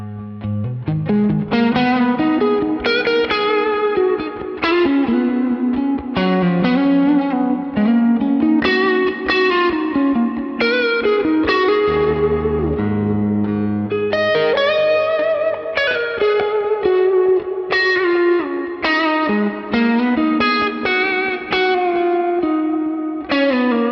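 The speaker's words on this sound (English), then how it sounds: "The plate is more my preferred sound of reverb in general, but sounds great." Distorted electric guitar playing chords and riffs continuously through a Neural DSP Archetype: John Mayer X plugin, wrapped in a bright, lingering plate reverb that smears each note into the next.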